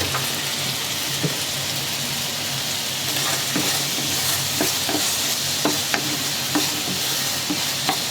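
Green peppers and carrots sizzle and crackle in a hot stir-fry pan for Cantonese sweet and sour pork, a loud, steady hiss dotted with sharp pops and spits throughout.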